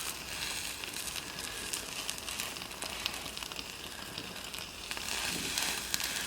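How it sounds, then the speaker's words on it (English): Brazing flux on hot metal fizzes as its water boils off, a steady soft sizzle and crackle with occasional sharper pops, close and faint, with no voices. "that flux drying out, that's just basically the water boiling off and it's leaving behind the flux powder"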